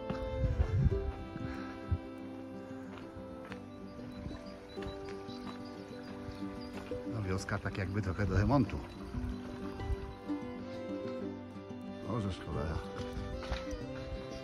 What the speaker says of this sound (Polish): Coś panią poniósł chyba ten koń